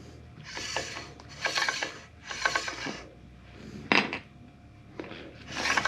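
Front wheel bolts being tightened on a KOMOTO X1500 electric snow scooter: a series of close metallic ratcheting and clanking bursts in an uneven rhythm, with a brief sharp clink partway through.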